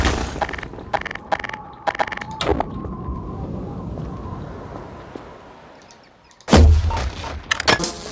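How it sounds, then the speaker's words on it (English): Grenade blast in Half-Life 2: Lost Coast: a few sharp gunshot-like cracks give way to a long fading rumble, then after a near-silent gap a sudden heavy boom erupts, loud and close, followed by more sharp reports. "Why is he throwing a grenade right off the bat?"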